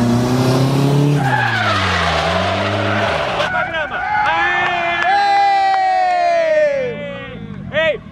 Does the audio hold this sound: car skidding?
yes